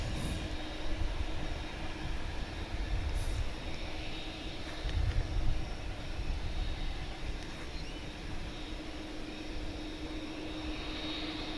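An airliner taxis at DFW airport while making a U-turn, its steady engine rumble and whine holding a constant drone throughout with a slight swell midway, distant and continuous, no voices.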